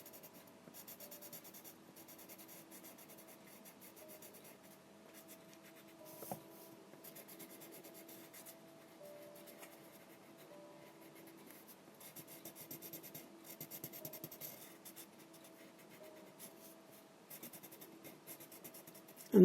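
A colored pencil scratches across paper while a wood floor is being colored in, giving a soft, continuous rasp of quick back-and-forth strokes, close and fairly quiet, with no voices.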